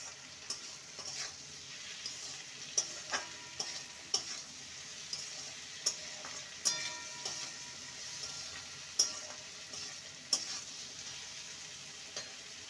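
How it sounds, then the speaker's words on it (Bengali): Okra fries in a pan for an okra and potato dish, a soft continuous sizzle with light, regular clicks and scrapes of a spatula, quiet and close with no voices. "ভেন্ডিগুলোকেও ভেজে নেব।"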